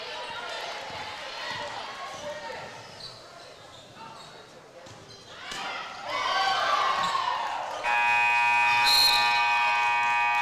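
A loud, sustained buzzer sounds to end the first half of a faculty basketball game, coming after a commentator's talk, crowd noise and bouncing balls in a gym.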